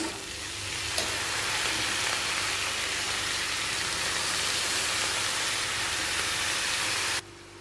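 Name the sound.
potatoes frying in a pan with salt and turmeric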